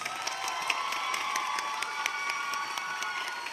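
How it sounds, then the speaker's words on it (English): Audience at a Miss Ohio pageant preliminary clapping and cheering, a dense, sustained wash of applause from a large indoor crowd, loud and continuous. "One more round of applause."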